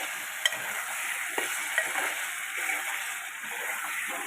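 Egg and drumstick curry frying in a pan, a steady close sizzle with a faint hiss underneath and a few light clicks of stirring.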